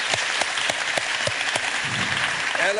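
An audience at a writing tertulia applauds a winner, giving a brief round of clapping with distinct claps over a steady patter, fairly close and moderately loud, with no one speaking.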